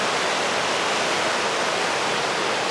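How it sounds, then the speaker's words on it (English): The Nolichucky River rushes past Uncle Johnny's on the Appalachian Trail, a steady, loud, broadband roar of flowing water with no talking over it. "I'm down by the river because Uncle Johnny's is just right on the Nolichucky here, so they got the river right behind"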